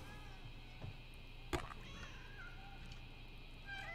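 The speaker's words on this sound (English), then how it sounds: "How can you be angry with so many cute kittens around here?" Kittens mew softly inside a cyberpunk ghost-story video game, a few faint, short cries over a low steady ambient hum, with one brief knock partway through.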